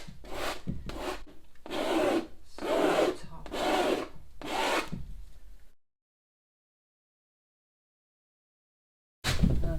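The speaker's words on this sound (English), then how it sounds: "I think maybe better if I scraped on top" Paint being scraped across the surface of a large canvas makes a series of about six loud, rough rasping strokes. The strokes are followed by a long silence, then a final scrape starts.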